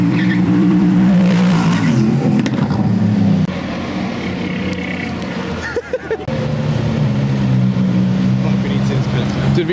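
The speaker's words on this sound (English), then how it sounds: "This is what you do when you wait for a Koenigsegg to turn up. To burn out!" A car doing a burnout while onlookers wait for a Koenigsegg in Monaco, engine roaring loud and close with a sustained squealing tone, briefly dipping before surging again.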